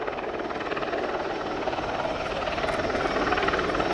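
An Apache gunship helicopter at the Royal International Air Tattoo 2019 air show gives off a steady, loud, rotor-driven roar that holds constant throughout.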